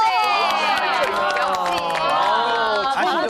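A studio audience on a Korean variety talk show breaks into loud, continuous applause and cheering, a dense crowd roar with whoops that holds steady for the full stretch.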